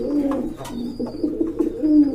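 Pigeons of a fancy breed cooing close by in a market setting, several soft throaty coos in quick succession with a faint high tone behind them.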